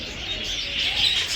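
A male Kaldom pigeon coos among a pair offered for sale at a pigeon market, with other birds chirping around it; the sound is steady, fairly close and moderately loud, with no talking.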